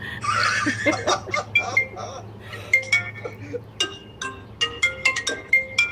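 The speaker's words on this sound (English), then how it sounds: "whose phone is that going off, Carmen?" A phone rings during a group video call, sounding as a string of bright repeating electronic tones that follow early clinking, with people laughing and chuckling around it.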